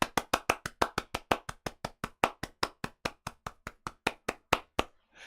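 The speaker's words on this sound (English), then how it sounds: "I'm sure everybody watching along at home will be joining me to give you a huge round the world round of applause" Applause for a conference talk, heard as a steady series of about two dozen individual hand claps, close and evenly paced, slightly irregular in loudness, ending abruptly into quiet after around five seconds.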